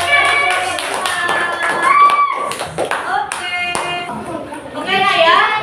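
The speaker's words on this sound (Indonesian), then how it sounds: "Kita beri aplaus untuk kelompok 5." Schoolchildren in a primary classroom clapping for a student group, quick scattered hand claps mixed with excited voices and chatter throughout.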